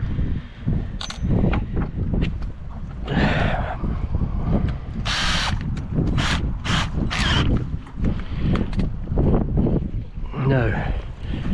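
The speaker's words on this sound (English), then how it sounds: "I'll drill the holes for the bolts" A power drill boring bolt holes for a boat exhaust fitting, heard as several short, sharp whirring bursts close to the microphone, mixed with mechanical clatter and handling noise.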